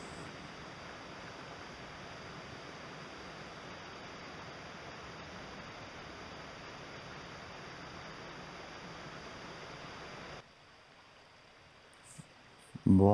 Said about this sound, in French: on est sur une rivière corse là